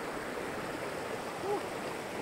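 A rocky stream at Sapang Bato runs as a steady broadband rush of water, continuous and moderately close, with a faint tonal chirp briefly rising above the flow midway through.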